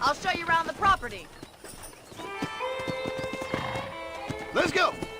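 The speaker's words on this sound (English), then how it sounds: "let's see if you can still ride a horse" A horse in the Red Dead Redemption video game gallops with clip-clopping hoofbeats and whinnies, heard over game music, with voices speaking near the start and end.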